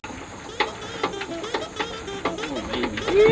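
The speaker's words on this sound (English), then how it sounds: "we're gonna get it up on these forks, hand crank it up" A hand-cranked material lift raises a heavy roof beam over a deck, repeated ratcheting clicks and mechanical creaks in an uneven rhythm, ending in a rising metallic squeal.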